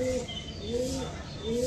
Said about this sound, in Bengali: পাল্লাই থেকে বাসায় কবুতর আসছে একসাথে 6টা